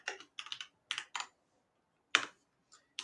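Keystrokes on a computer keyboard while entering a Linux command on a PLCnext controller, sounding as short bursts of clicks in separate clusters, with a couple of isolated taps after a pause, close and fairly quiet.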